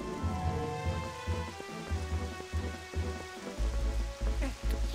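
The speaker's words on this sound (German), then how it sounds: "Haben wir jetzt den Regen hier ausgelöst?" Steady rain with low rumbling thunder in Zelda: Twilight Princess, heard as a continuous wash under a repeating low, pulsing game music bed with no talk.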